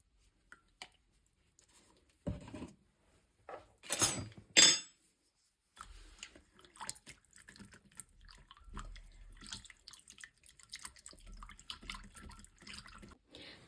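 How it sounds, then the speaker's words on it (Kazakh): Water splashes and trickles into a bowl of 650 grams of flour for pizza dough in a home kitchen, a couple of brief pours followed by faint clinks and soft mixing noises. "650 грамм ұнымызға суымызды құямыз және де араластырамыз"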